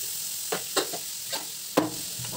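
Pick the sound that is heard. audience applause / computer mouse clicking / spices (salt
spices (salt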